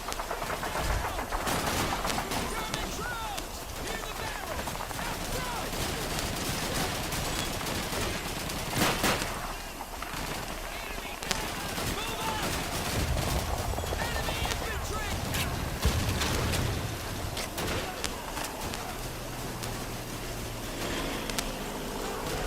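Dense, continuous video game gunfire with overlapping bursts and rapid volleys, sustained loudly throughout, with voices talking over the shooting.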